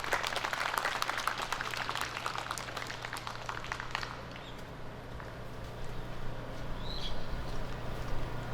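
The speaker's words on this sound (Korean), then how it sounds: "큰 박수 부탁드립니다." An audience at a construction company's apartment remodeling project briefing applauds a company's introduction: dense, steady clapping for about four seconds that then thins and fades into room noise.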